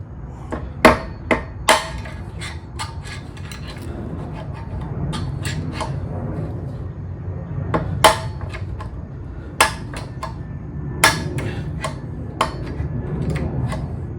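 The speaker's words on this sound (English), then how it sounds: "I'm going to get my heavier hammer" A heavy hammer drives a screwdriver to knock out the wheel bearings of a Honda NC700X motorcycle, giving irregular, loud metallic strikes with pauses between them over a low steady background hum.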